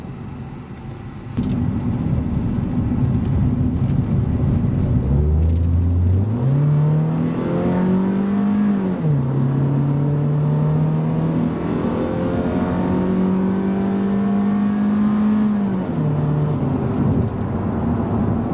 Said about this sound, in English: hop on the freeway so we can do a little bit of a acceleration run in this almighty D16